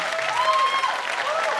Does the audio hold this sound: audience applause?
yes